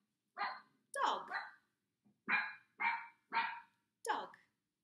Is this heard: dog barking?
yes